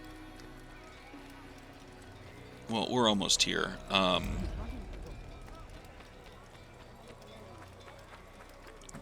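A horse gallops briefly in the video game Assassin's Creed, a quick burst of hoofbeats with a whinny up close, heard under a voice talking over the game.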